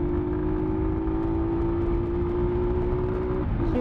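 Motorcycle engine held at high RPM in a steady, loud drone during a clutchless upshift, with a pitch change near the end as the gear changes, no talking.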